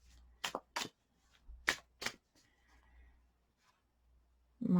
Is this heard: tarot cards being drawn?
yes